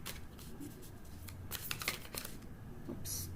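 Tarot cards are shuffled by hand in quick soft riffles and flicks, close but faint, with bursts of papery rustling and a brief final riffle at the end.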